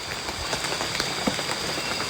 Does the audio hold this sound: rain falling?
yes